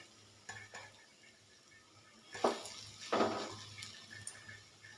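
Broad beans (chikkudukaya) stirred in a frying pan: a faint steady sizzle broken by a few scraping stirs, two of them louder, with light clinks of the utensil against the pan.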